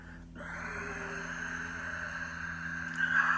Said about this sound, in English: As you grip that esophagus, keep the shoulders down and you exhale.